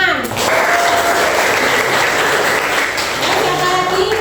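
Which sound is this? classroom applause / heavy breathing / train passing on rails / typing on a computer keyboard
classroom applause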